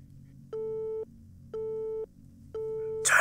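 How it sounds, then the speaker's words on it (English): Three evenly spaced beeps of a phone tone in the video game This Is The Police, each about half a second long with equal gaps, clean and steady, followed by a sudden burst of noise at the end. "Turn off your phone, Jack."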